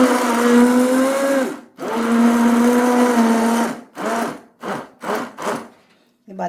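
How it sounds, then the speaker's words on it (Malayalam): An electric blender whirs loudly as it blends watermelon into juice. One long run is followed by a brief stop and another sustained run, then several short pulsed bursts. "നമുക്കിതെല്ലാം ഇതിൽ ജ്യൂസ് അടിച്ചെടുക്കാം"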